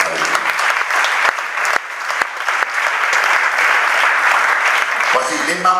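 A church congregation applauds steadily and loudly through the whole stretch, dense clapping filling the room, with a voice briefly emerging near the end.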